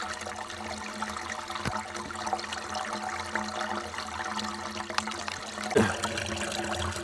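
Water trickling and splashing steadily down into a spring at a small clay-built dam, a constant close babble with a couple of sharp knocks, no voices.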